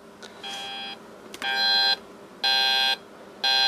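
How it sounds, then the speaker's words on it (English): A Heathkit GC-series digital alarm clock, muffled by a towel beneath it, sounds in repeated electronic buzzing bursts, each about half a second long with short gaps, growing louder after the first couple. "And there goes the alarm."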